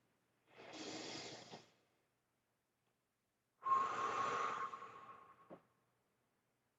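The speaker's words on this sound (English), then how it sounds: "this is just the deep breathing" Deep breaths during an intermediate strength training session: two slow, audible inhale-exhale passes separated by a pause, close and fairly quiet with no talking.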